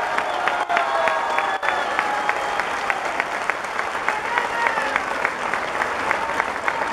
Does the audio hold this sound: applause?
yes